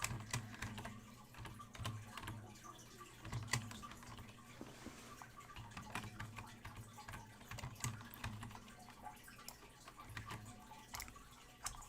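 Typing on a computer keyboard during a chart obby game, a steady stream of quick, faint clicks and taps that carries on close by throughout.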